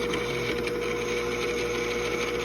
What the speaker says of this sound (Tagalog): Ito ng electric mixer para mas mabilis.